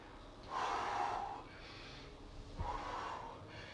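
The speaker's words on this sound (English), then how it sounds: "Big deep breaths." Deep, heavy breaths during an exercise workout, two long audible exhalations about two seconds apart, close and fairly loud with no talking.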